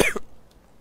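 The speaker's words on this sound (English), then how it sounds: "oh, again, coughing. Sorry about that." A single sharp cough, close and fairly loud, with a short second burst, then near silence, heard while someone plays the Total War Rome 2 mod Troy Reborn.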